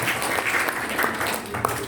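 Crowd of santri at an Indonesian Islamic boarding-school lecture clapping together, a dense, even wash of applause holding steady throughout, with no speech on top.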